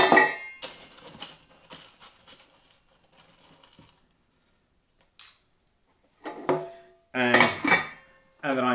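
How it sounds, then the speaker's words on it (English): Ice cubes dropped into a gin and tonic glass, a cluster of sharp clinks and rattles early on, then scattered quieter taps and a few later bright clinks, close and fairly loud, with no speech over it. "Throw in a bit more ice"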